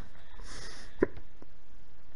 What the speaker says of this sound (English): And that's the hiccup.